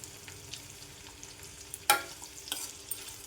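Bitter gourd pieces frying in hot oil in a pan, a steady low sizzle with a few sharp crackles and spatters standing out.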